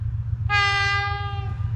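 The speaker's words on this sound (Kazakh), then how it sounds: "Мінекей пойыз Түркістан қаласынан жүріп бара жатыр." A departing train at Turkistan station sounds its horn once, a single loud, sustained tonal blast of about a second over a low rumbling idle.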